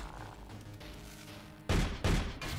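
Enemy gunfire in the video game Sword of the Stars: The Pit: two loud, close shots with a short gap between them, over a steady low game background.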